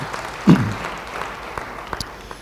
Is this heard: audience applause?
yes